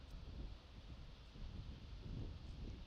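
Steady low rumble of wind buffeting outdoors at a disc golf course, continuous and fairly loud, with no voices.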